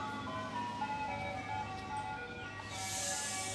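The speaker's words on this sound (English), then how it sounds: "See ice cream bus there now?" An ice cream van's chime plays a faint, steady tinkling melody at a distance over a low idling engine hum, and a brief hiss of passing traffic rises near the end.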